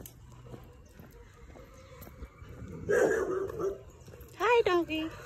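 A dog yips and barks in a couple of short bursts close by, with people talking and background bustle around it.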